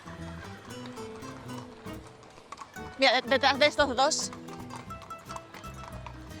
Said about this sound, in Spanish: Tengo que cruzar la calle, pero como vienen tantos caballos es complicado.